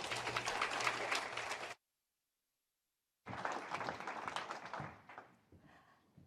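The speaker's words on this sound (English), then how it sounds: "Please give her a warm round of applause." Audience applause at a Bank of Canada fireside discussion on the Canadian mortgage market, a burst of dense clapping that cuts to silence, then resumes and slowly fades out.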